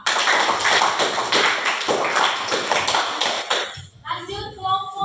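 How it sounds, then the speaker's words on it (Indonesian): A classroom group applauds presentation group 2, dense clapping from many hands for about four seconds before it thins out and voices take over. "beri aplaus buat kelompok 2"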